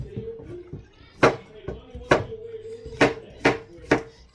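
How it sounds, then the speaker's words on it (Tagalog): Cucumber being sliced into small pieces on a cutting board in a home kitchen, with sharp knife chops landing about every half second, close and distinct against quiet room sound. "Slice ko lang muna siya ng maliliit."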